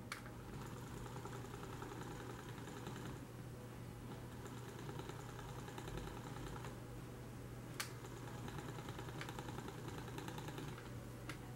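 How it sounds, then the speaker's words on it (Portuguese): A small electric motor in an infrared-sensor electronics demonstration, switched by an infrared remote control, whirs with a steady hum for the whole stretch, broken by occasional light clicks, with no talking. "Veja a intensidade da rotação do motor com esse controle remoto operando"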